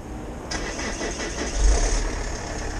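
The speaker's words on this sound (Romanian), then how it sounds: "Uite mă, că a pornit tractorul mă" A tractor engine cranks and catches about half a second in, then settles into a steady, fairly loud idle with a low mechanical rumble and faint knocking, close by, with no talk over it.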